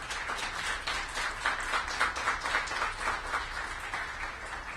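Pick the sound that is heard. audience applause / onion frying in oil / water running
audience applause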